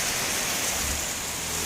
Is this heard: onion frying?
no